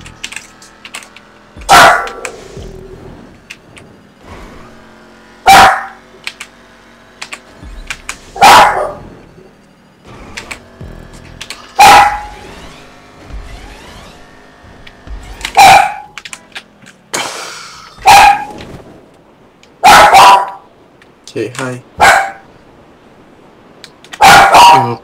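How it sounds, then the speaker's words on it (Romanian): A pet dog barks in loud, separate bursts spaced every few seconds, close by, over quiet Grand Theft Auto Online game sounds and light keyboard typing, with a brief spoken word. "Câinele meu latră, pentru că de ce nu?"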